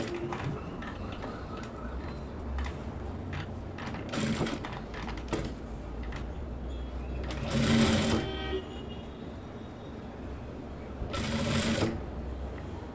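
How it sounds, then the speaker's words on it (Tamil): A sewing machine stitches a blouse patti in short runs, with a soft rhythmic rattle and a few louder bursts over a faint, steady background. "1/2 இன்ச் அகலத்தில் ஆல்ரெடி நம்ம மார்க் பண்ணியிருக்கோம் பார்த்தீங்களா, இந்த லைனையும் நம்ம மார்க் பண்ண ஃப்ரண்ட் பார்ட்டில் மார்க் பண்ண அந்த இடத்தையும் மேட்ச் பண்ணி கரெக்டாக வந்து தையல் போட போகிறோம்"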